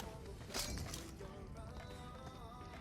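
A Molotov cocktail's glass bottle shatters with a bright crash early on in PUBG Mobile, followed by crackling debris under continuous game music and low ambient noise.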